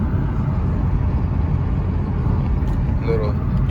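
A 2014 Mustang with a Roush axle-back exhaust downshifts from third to second, heard from inside the car as a deep, steady exhaust rumble that stays loud throughout while a driver talks over it.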